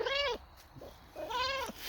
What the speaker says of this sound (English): She's a meowing now.